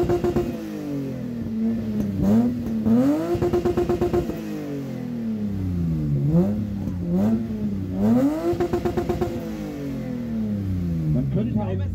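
At a car meet, a car engine is revved hard in repeated bursts, each blip climbing sharply then falling back to a lumpy idle with crackling pops, loud and close, with people talking faintly around it.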